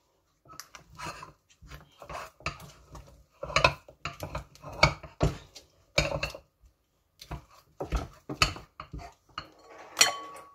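Irregular scraping and knocking of a utensil working thick placali dough against a metal pot, rhythmic bursts with brief pauses.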